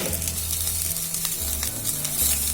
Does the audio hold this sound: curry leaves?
yes